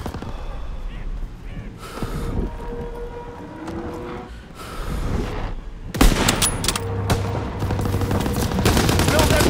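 Bursts of rapid gunfire from Call of Duty: WW2 beta gameplay, with a loud sustained barrage in the second half under faint game sounds and brief voices.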